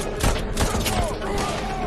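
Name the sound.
gunfire from guards shooting in a video game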